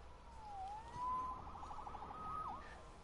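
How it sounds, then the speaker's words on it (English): Police siren in a Spider-Man video game, a wailing tone rising and falling with a quick warbling stretch, somewhat distant and faint over a low background rumble, no talk. "Saved by the siren."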